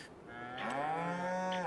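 A Holstein dairy cow in a farming video game gives one long, loud moo that swells and holds steady near the barn, with no talk over it.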